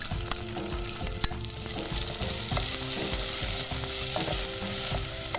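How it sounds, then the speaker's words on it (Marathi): Sliced onion sizzles steadily in a hot tempering of oil for a bitter gourd sambar, a continuous close frying hiss broken by occasional sharp clicks and scrapes of stirring. "आता त्याच्यामध्ये आपण उभा चिरलेला कांदा आहे तो फोडणीला घाला"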